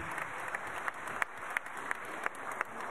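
At a reception for a regional team of WorldSkills finalists, an audience applauds its gold medallists, steady moderate clapping with a few sharper rhythmic claps standing out.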